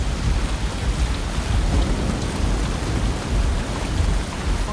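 A heavy thunderstorm in the video game South of Midnight, with dense rain pouring steadily and low rumbling thunder rolling underneath, loud and continuous with no talking.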